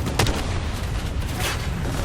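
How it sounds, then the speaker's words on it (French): A generator's EMP explosion in Call of Duty Black Ops III, a loud rumbling blast with a couple of sharp cracks early and later, over dense low roaring noise that persists throughout. "Je crois que l'explosion IEM du générateur a grillé ton drone."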